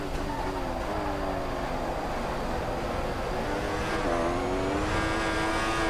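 A McLaren Formula 1 race car engine in F1 2014 at Malaysia, screaming at a steady high pitch with rising and shifting whine through gear changes, loud and continuous throughout.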